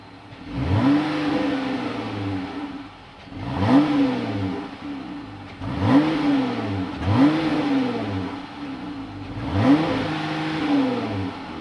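A 2025 Jeep Gladiator's 3.6-liter V6 revs repeatedly, rising and falling in five or so bursts over a steady idle, close and fairly loud.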